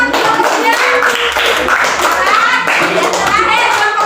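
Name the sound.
children clapping hands in class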